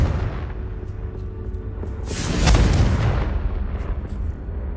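A Confringo fire-blast spell explodes in Hogwarts Legacy, a single loud boom swelling midway and rolling off into a low rumble against steady game ambience.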